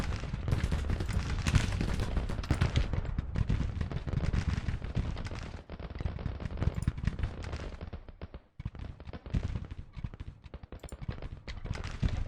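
A Civil War battle in the strategy game Grand Tactician: The Civil War rages with dense, continuous crackling rifle volleys and deep artillery booms. The din is loud and sustained, dips briefly, then resumes with no talk.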